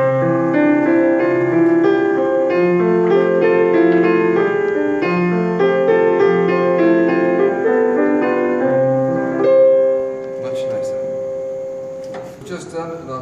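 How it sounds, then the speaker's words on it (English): Arpeggiated chord accompaniment on a keyed instrument, broken chords rolling in a steady, even rhythm through a chord progression, fairly loud and alone, ending with a sustained final chord that fades out. "If I arpeggiate the entire chord sequence, it'll sound like this."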